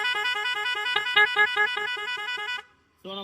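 An aftermarket horn fitted on a Hero motorcycle blares loud and close in a long, slightly pulsing honk, cuts off briefly, then sounds again.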